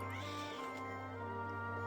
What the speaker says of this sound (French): C'est le chat qui fait ce bruit là, c'est horrible.